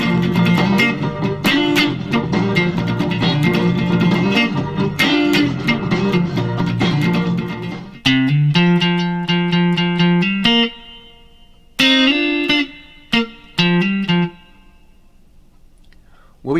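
Electric guitar picks out a funky R&B main riff from 1968, with quick choppy single-note phrases and muted clicks, close and alone, slowing into sparser notes near the end.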